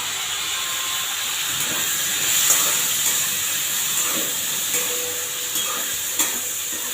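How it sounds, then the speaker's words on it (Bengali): Chopped tomato fries with salt and pepper in a hot pan, a steady hissing sizzle with occasional crackles and a few spoon stirs, close and even. "নুন দিয়ে আমি এটাকে ভাজছি"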